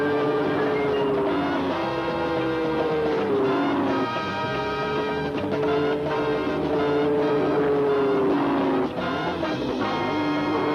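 Porsche production cars, prototypes and 1,000-horsepower racing machines on a test track, engines droning continuously with gear-change pitch sweeps rising and falling over about eleven seconds, fairly close and loud.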